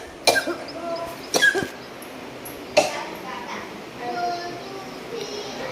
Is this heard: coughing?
yes